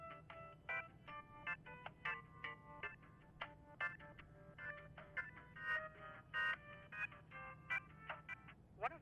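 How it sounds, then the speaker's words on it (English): Automated telephone system producing a stream of short electronic tones and ringtone-like beeps in uneven bursts, close and clear over a faint steady hum, with no talking. "Anne continues her valiant struggle against an uncaring automated phone system"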